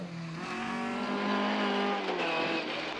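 A relatively cheap rally car at a historic rally carnival in Barbados accelerates across a loose section, engine pitch rising and falling through gear changes, loud and close.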